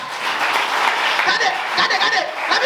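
A church congregation breaks into applause, a dense patter of clapping that carries under an ongoing sermon-style voice throughout.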